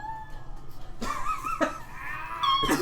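During a tabletop roleplaying game, a person's voice imitates a small cat, giving a couple of short, high, squeaky meows against faint room noise and murmuring.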